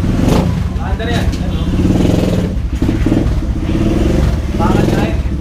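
A Bristol BR 250 scrambler motorcycle engine runs loud and close, with throaty revving and a rough, pulsing rumble, as voices talk over it.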